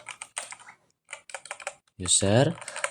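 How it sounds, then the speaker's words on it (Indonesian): Keys clatter on a computer keyboard as a MySQL command is typed during a database replication tutorial; quick bursts of close clicks come first, then a voice speaks over the last second. "Caranya, pertama kita ketikkan create user"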